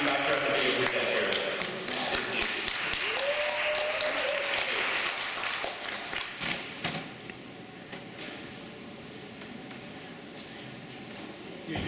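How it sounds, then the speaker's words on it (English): Audience clapping at an awards event swells into a loud, dense applause and then thins out toward the end, with voices mixed into the crowd noise. "Another round of applause."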